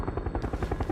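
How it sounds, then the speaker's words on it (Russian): A helicopter in a battle royale video game thrums with steady rotor chop, loud and close, a continuous pulsing beat throughout the short moment. "Ладно. Вертолет. Ты плыви, вертолет."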